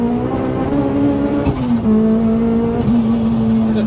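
Supercharged Honda Civic Type R EP3 on the road, its engine giving a steady, close droning hum with a brief shift in pitch partway through.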